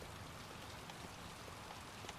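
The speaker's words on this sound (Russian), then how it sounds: "Тут уже как бы дождь идет, грязь смыла." Steady rain patters softly in the Heavy Rain video game, a faint even hiss of drops on surfaces with no voices.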